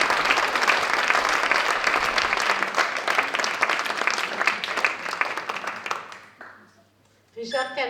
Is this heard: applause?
yes